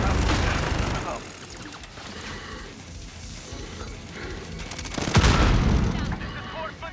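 Call of Duty multiplayer Hardpoint match on the Atlas Superstore map, with rolling gunfire and booming explosions, a dense burst at the start, scattered shots in the middle and a heavy blast near the end, alongside in-game voices.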